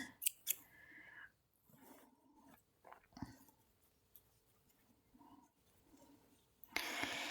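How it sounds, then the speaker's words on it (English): Snips cutting yarn after a row of single crochet in superwash merino DK wool: a couple of quick, close snipping clicks near the start, followed by soft handling rustles and a brief louder rustle at the end. "Let's pull out our snips."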